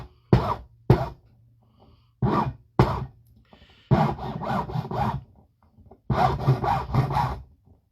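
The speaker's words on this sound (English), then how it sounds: "just start filing the shit out randomly" A file rasps by hand across a carved ring in short, separate strokes, first single passes and then quick repeated bursts. The strokes are close and loud, with quiet gaps between them.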